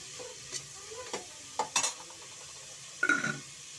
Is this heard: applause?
no